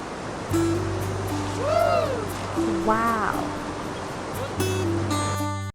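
Strong floodwater current in a river during typhoon-like flooding, a continuous loud rushing roar heard during solo fishing, with whistling tonal sweeps and hum over it and a brief cut near the end.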